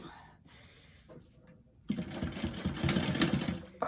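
A sewing machine runs steadily, top stitching a seam allowance down on a fabric bag, loud and close after a quieter start with light handling noise.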